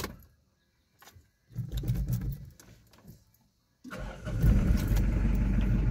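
A Mitsubishi Adventure engine, under alternator repair, cranks and catches after a few quiet clicks and handling noises, then runs with a loud, steady idle close by.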